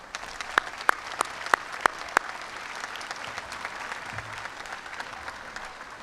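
Audience at a 2019 Hornell High School graduation ceremony applauding parents, grandparents and guardians: a few sharp, distinct claps ring out early, then settle into a steady, softer wash of hall noise.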